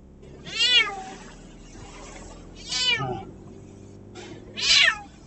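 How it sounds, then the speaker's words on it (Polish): A cat meows three times in loud, drawn-out rising calls spaced a couple of seconds apart, close by, over a faint low background hum. "Tutaj sobie miauczy."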